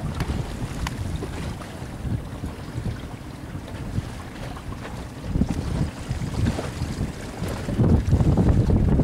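Powerboats racing in a Poker Run rumble at a distance on open water, their low engine drone partly buried under heavy wind buffeting the microphone and rising toward the end.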